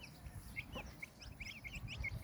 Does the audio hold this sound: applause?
no